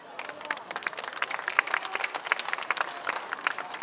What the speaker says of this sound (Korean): 더 힘차게 박수를 치십시오.